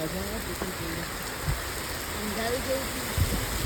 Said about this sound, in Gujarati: જોઈ શકો છો કેટલો ફૂલ વરસાદ ચાલુ થઈ ગયો છે